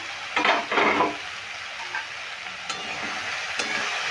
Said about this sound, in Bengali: ঢাকা দিলে সেদ্ধও হয়ে যাবে আর একটু ভাজা ভাজাও হয়ে যাবে